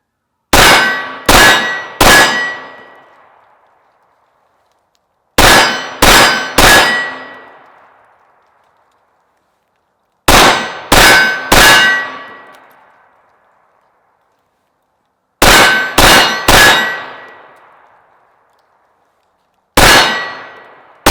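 Glock 19 Gen 4 MOS pistol with a Leupold DeltaPoint Pro fired in quick strings of three shots, each group ringing off steel targets with sharp clangs and decaying metallic tails. Four triplets come at roughly five-second intervals, then a single final shot.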